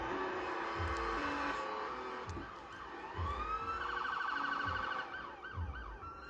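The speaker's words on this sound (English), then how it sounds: "There's always police cars roaming the streets." A police siren wails continuously nearby, its pitch sweeping up and down and then switching to a faster warbling pattern.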